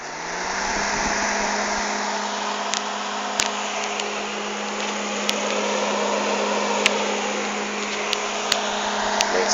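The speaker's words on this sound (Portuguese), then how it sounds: "Tá aí o ventilador." A homemade fan built from a microwave oven fan in a box with a switch runs with a steady motor hum and airy whoosh, constant and close, with a few faint clicks along the way.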